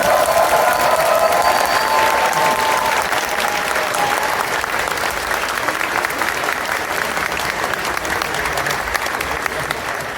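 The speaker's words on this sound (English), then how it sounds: "we just get everyone to give another huge cheer for Rose." Convention audience at an opening ceremony applauding and cheering, a dense sustained wall of clapping with a few shouts, gradually easing over about ten seconds.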